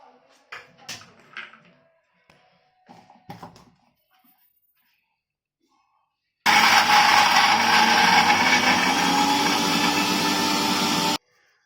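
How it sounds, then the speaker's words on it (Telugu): A mixer grinder grinding garlic for ginger pickle roars steadily and loudly for about five seconds, after some quiet handling sounds and light clatter. "ఈ వెల్లుల్లి కూడా గ్రైండ్ చేసుకోవాలి"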